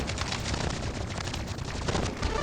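Rapid gunfire rattles without pause in a shooting video game, a dense, loud burst of overlapping shots and blasts filling the whole stretch, with no talking.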